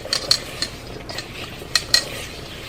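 Shrimp marinade is stirred in a bowl for shrimp and grits, a spoon clinking against the sides in a few sharp taps over soft, steady scraping, close by with no talking.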